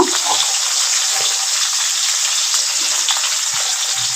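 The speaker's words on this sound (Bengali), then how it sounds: "লবণ হলুদ মাখিয়ে রেখেছিলাম যে সরষে মাছগুলোতে সেগুলো তেলকে ছেড়ে দিয়েছি ভাজার জন্য" Big kholisha fish, marinated in salt and turmeric, fry in hot oil in a wok with a loud, continuous hiss and crackle and a few small pops, steady throughout.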